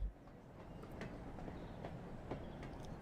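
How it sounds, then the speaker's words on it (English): Faint, distant rumble of a train drawing closer in Train Sim World, with soft rail clicks and a low steady roll, no voices. "There's a train coming."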